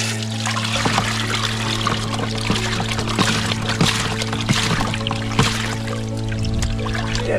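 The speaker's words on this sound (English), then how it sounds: "Then we're gonna see what kind of muddy water comes out." Muddy water from a spring pours and trickles steadily from a hose, a continuous splashing flow up close with a low hum underneath.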